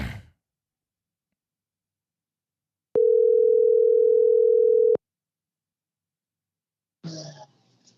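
A telephone ringing out on an outgoing call, a single steady two-second tone in near silence, with brief faint noise before and after.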